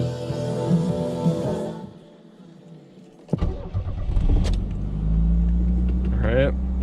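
A 1984 Pontiac Fiero engine cranks and catches, then settles into a steady, close idle that swells briefly near the end, with some talk at the start.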